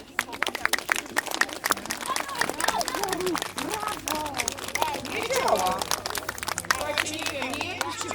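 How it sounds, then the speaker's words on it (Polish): An audience at an outdoor Santa Claus show in Blachownia claps along in quick scattered rhythm, with someone talking over the clapping and chatter in the background. "Klaskamy jeszcze raz. Może zadziała."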